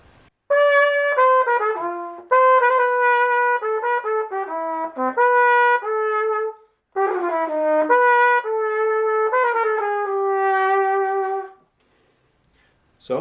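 A trumpet plays a line of a song as a solo melody, with bright sustained notes and quick runs in phrases. There is a short breath pause in the middle, and the playing stops near the end.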